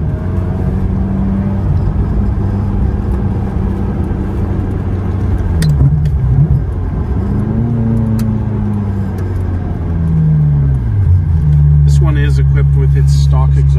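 A 1998 Ferrari F355 GTS with its stock exhaust driving along the Pacific Coast Highway, the engine droning steadily and shifting pitch as it rises and settles, with someone talking over it.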